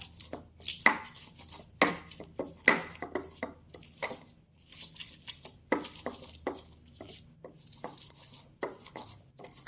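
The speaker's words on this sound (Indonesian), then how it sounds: "Ini tadi cabai yang sudah saya rebus dengan bawang putih ya, kita haluskan saja" Boiled chili and garlic pounded and ground with a stone mortar and pestle, a series of sharp, irregular knocks and scraping thuds close by, quiet between strikes with no talking.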